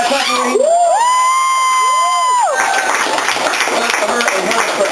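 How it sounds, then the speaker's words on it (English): An audience claps, cheers and whoops for a performer stepping onto a stage, a loud crowd roar that swells after a sustained, wavering tonal sound, with shouting voices throughout. "Everybody clap for Rahima."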